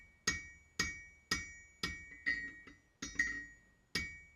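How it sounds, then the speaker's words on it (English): A Swiss or French style cross-peen hammer forges a hawk on an anvil: eight evenly spaced, bright ringing strikes at a steady working pace, fairly faint and with no voices. "I'm using a Swiss or French style cross-peen hammer here."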